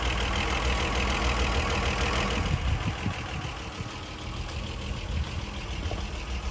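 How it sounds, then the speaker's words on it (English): A Ford Granada 3.0 V6 engine idles steadily and close by, a continuous low rumble that settles a little softer partway through. "Listen to that engine."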